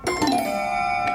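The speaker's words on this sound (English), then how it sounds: "it sounds quite chimey, almost like clock chimes. But it's just a vintage toy piano" A vintage toy piano rings out a couple of bright, bell-like chiming notes that sustain and decay slowly, close and clear with no talking.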